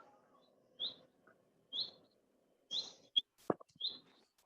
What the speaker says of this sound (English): sound of birds. That's nice.